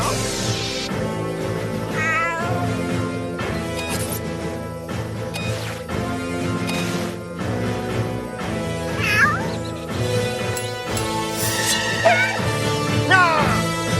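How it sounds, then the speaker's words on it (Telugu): A cartoon cat meows repeatedly over a busy, constant music bed, with several drawn-out, wavering cries that rise and fall above the steady backing. "మిస్టర్ క్యాట్, మనం ప్లే గ్రౌండ్ కి వెళ్దాం."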